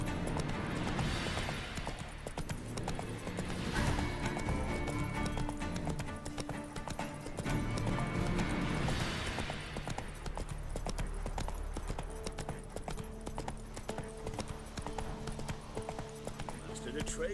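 Roach the horse gallops in The Witcher 3, hooves clip-clopping in a fast, steady rhythm with occasional snorts over a game soundscape with background music and swelling ambience.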